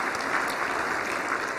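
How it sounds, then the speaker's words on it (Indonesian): Dense, steady applause from a seated audience at an Indonesian government ministry event, a continuous wash of many hands clapping at an even level with no voices standing out. "Sekali lagi tepuk tangan buat seluruh hadirin"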